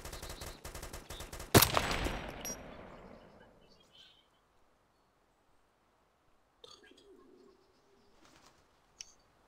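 Gunfire in the video game DayZ Epoch opens with a rapid burst of close shots and one loud crack that rings out and fades, then sparse faint sounds and a murmured voice follow.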